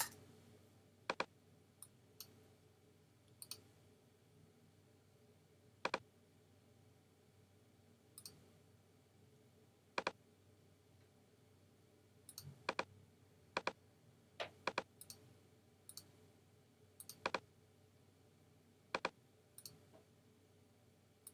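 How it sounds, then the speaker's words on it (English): Typing on a computer keyboard, sparse separate key clicks scattered across a quiet room, some single and some in quick little clusters, close and fairly faint. "You can go in and click in here and just start typing."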